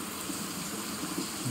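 Monsoon rain falls in a Konkan village near a temple, a steady even hiss of drops with no voices, moderately loud throughout.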